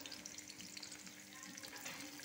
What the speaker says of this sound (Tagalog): nilagay na natin yung sibuyas